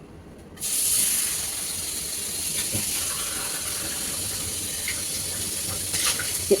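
Water runs steadily from a tap into a sink while a bowl is washed, a constant close hiss that starts abruptly after a brief quiet moment, with faint clinks near the end.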